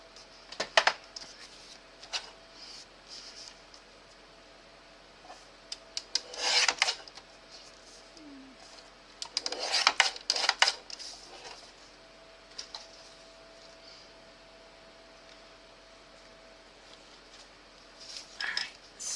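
Paper corners being trimmed and rounded by hand: intermittent soft scraping and snipping bursts with small taps between, close and quiet, with a faint steady hum underneath and no talk.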